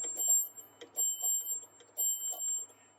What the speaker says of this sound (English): when we get to the end of the disc, there's a little bitty bell that beeps